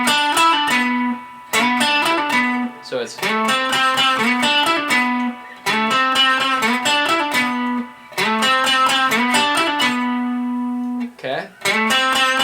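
Electric guitar with a distorted tone plays a riff, with repeated chord stabs, slides and sustained bass notes. The phrases recur rhythmically and are loud and close, and a brief spoken word falls near the end.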